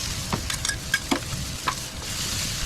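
Steady sizzle of butter and rendering ribeye fat frying in a hot pan, close and continuous, with a few light clicks and stirring taps over the hiss.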